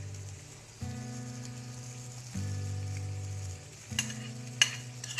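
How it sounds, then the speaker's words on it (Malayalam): Omelette batter is poured over cheese in a hot pan and sizzles steadily with bursts of frying noise. A few light utensil clicks come near the end. "ഇനി നമുക്ക് നമ്മുടെ ബാക്കിയുള്ള 1/2 ബാറ്റർ കൂടി ഇതിന് മേലേക്ക് ഒഴിച്ചു കൊടുക്കാം."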